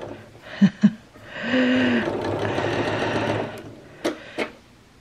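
Home sewing machine running a short burst of forward stitches, then a brief pause and back stitching, with a couple of sharp clicks from the machine before and after the steady whirring run.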